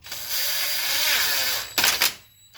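Impact gun tightening a bolt on a Toyota Camry axle, a loud close whirring burst for about a second and a half, then a couple of sharp rattling hammer bursts.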